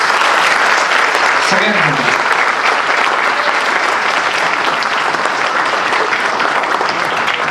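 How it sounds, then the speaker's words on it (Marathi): An audience at a full-length stage play claps in loud, dense, sustained applause that fills the whole stretch, with a voice speaking briefly over it early on. "तुमच्यासाठी पुन्हा जोरदार टाळ्या एकदम"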